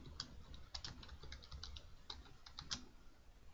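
Quiet, rapid keystrokes on a computer keyboard: a steady patter of light clicks, fairly soft and close, with no talking.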